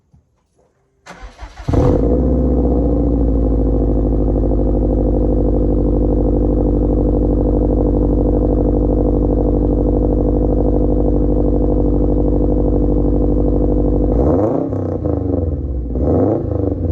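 A Subaru hatchback fitted with a Cobra exhaust cold-starts with a short crank, then settles into a loud, steady rumbling idle close by, with a few revs blipping near the end.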